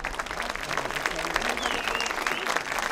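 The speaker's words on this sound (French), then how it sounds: "on peut les applaudir très fort" Audience applauding volunteers on stage at a 2019 art exhibition prize-giving, steady dense clapping filling the room with a voice talking over it.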